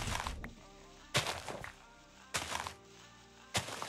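Blocks being broken in Minecraft survival mode, heard as four sharp, loud thunking hits spaced about a second apart, each followed by a short crumbling rattle, with no talk.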